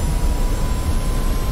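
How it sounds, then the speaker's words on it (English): A jet fighter engine in a video game roars steadily as the aircraft rolls for takeoff, a dense, loud, low rumble with a faint whine on top. "it's going to be a big melee here, so I suggest just taking off and just not using full power."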